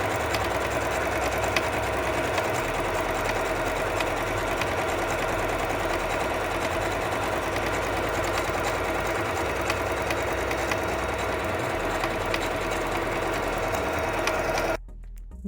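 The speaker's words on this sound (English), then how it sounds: "I'm doing a straight stitch on the left sided pants now" A sewing machine doing a straight stitch on pants for a Bharatanatyam dance costume hums and chatters in a steady rapid rhythm, close and continuous for about fifteen seconds before stopping abruptly.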